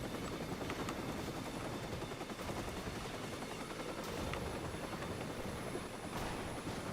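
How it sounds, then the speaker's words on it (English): A pursuing police helicopter in Watch Dogs 2 gives off a steady, dense rotor and engine roar that holds on without a break throughout, with no talking. "There's a helicopter on me."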